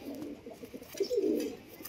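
A pigeon brought from Delhi coos softly at close range, a few low throaty calls building to a longer rolling coo near the end, with no talk over it.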